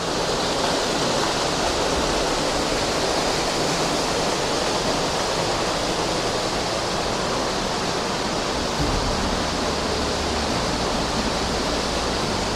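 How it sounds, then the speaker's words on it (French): Powerful water rushing and pouring beneath a rock overhang at Huelgoat in Brittany, a loud, continuous roar that stays dense and unbroken throughout. "il y a l'eau qui coule là. Assez puissant"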